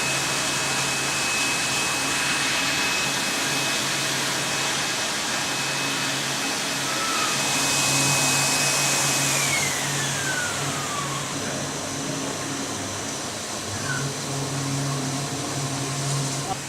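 A vacuum cleaner drones steadily while sucking water out of a freshly washed carpet, its motor whine shifting pitch partway through, loud and continuous with no talk.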